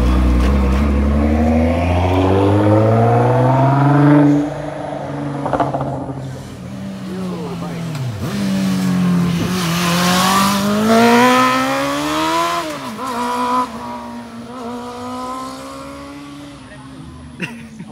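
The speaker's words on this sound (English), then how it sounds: "You hear the VTEC open?" A Honda engine with VTEC revs hard in the Forza Horizon racing game, its note rising and falling through the gears as it climbs up the rev range, with people chatting over it.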